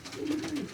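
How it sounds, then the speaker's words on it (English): A checker hen pigeon coos inside a loft, a low soft throaty warble that rises and falls steadily through the short moment, close and clear with no talking. "she's a broad pigeon"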